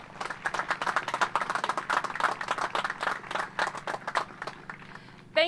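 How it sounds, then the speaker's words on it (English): A modest round of applause for a town mayor at a school bike-helmet giveaway ceremony in Falls City, with sparse, distinct claps from a small audience that thin out and stop before a brief noise at the end. "let's please give the mayor of Falls City a warm round of applause"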